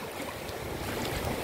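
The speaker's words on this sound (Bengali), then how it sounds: "সমুদ্রের ঢেউ।" Sea waves wash onto Inani beach at Cox's Bazar, a steady, full rushing surf that fills the short stretch without any voices.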